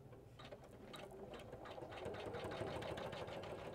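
Janome 500e embroidery machine stitching a flower, a fast, steady mechanical chatter of needle strokes that grows slightly louder, heard close with no talk.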